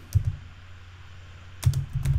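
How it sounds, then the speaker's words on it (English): Computer keyboard keys clatter in two short bursts of quick clicks, close and fairly quiet, with a low steady hum between them. "go to the insert text box, and I'm going to type here title"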